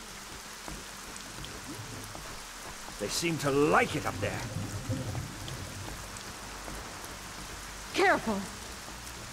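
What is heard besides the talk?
rain in the video game ArcaniA Gothic 4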